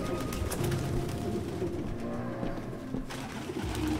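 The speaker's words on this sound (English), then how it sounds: "No human could live with all these fucking pigeons." Pigeons coo in a cluttered apartment in the video game Detroit: Become Human, several birds overlapping in soft, rolling, repeated calls, close and fairly loud, with a low ambient hum beneath and no talking.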